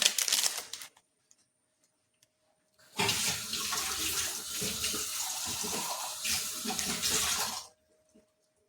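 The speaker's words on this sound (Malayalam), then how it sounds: "വെറുതെ കുറച്ച് വെള്ളം ഒഴിച്ചിട്ട് ഒന്ന് മിക്സ് ചെയ്ത് കൊടുക്കുക" Plain water is poured into a bowl to mix hair dye, a steady close splashing stream running for several seconds after a short earlier pour, with quiet gaps around it.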